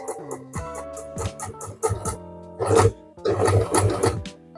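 A sewing machine stitches across an elastic band in short, rapid bursts of mechanical clatter, its motor whirring in stop-start runs that grow louder and denser toward the end.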